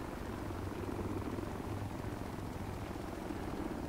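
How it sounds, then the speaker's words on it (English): A helicopter in Arma 3 hovers close by, its steady, dense rotor-and-engine drone holding at a constant loud level throughout, with no talking. "so that chopper's really close to me"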